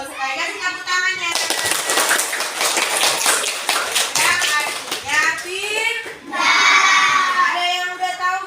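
Children clap together in a classroom during a lesson about the Hijrah, a dense burst of rapid claps running for several seconds alongside young voices and a teacher speaking.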